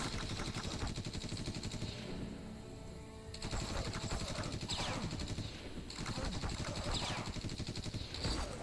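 Sustained automatic gunfire in The Walking Dead: No Man's Land, fast rattling bursts running almost nonstop, dipping briefly then resuming loud and dense.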